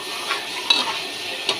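Onion with green chilies frying in oil in a pan for a chicken curry hisses steadily while a utensil scrapes and stirs in a few distinct strokes, close and clear.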